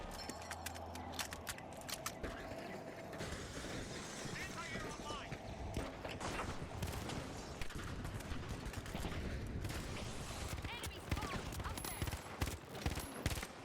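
Rapid rifle fire in The Finals, a dense chatter of close shots with short bursts mixed into busy game noise, loud and almost unbroken, with faint talking underneath.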